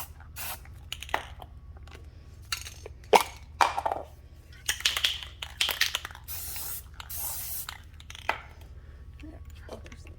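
Aerosol spray paint applied as a second coat to homemade Christmas ornaments, in short soft hissing bursts of varying length, close and fairly quiet over a low background hum.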